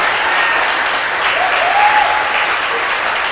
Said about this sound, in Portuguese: Aplaude aí, Jesus.